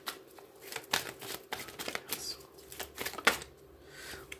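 Tarot cards are handled and one is flipped over during a reading, producing close, crisp papery snaps and flicks in quick irregular succession, with no speech.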